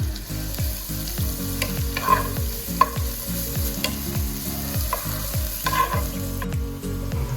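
Chopped onion sizzles in butter in a pan, a loud continuous frying crackle broken by regular scraping strokes of a spoon stirring it up close.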